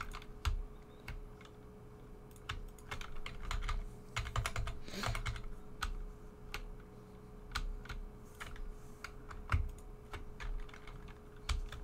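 Computer keyboard keys, mostly arrow keys, tapped in the Barotrauma submarine editor: scattered quick clicks in uneven bursts, close and fairly quiet over a steady low hum.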